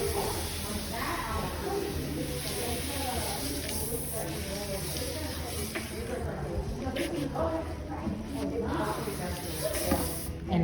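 Water sprays steadily to wet hair during a seborrheic dermatitis scalp treatment, a continuous close hiss lasting throughout, with faint background voice.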